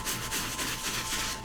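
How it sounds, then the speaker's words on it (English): Soft bristle brush scrubbing an Atmos Duck Camo Air Max 90 sneaker in circles, a steady close-up rubbing swish that rises and falls with each stroke, no voices. "let's go ahead and brush in a circular motion"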